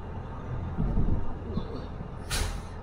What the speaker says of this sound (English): Another truck in behind us.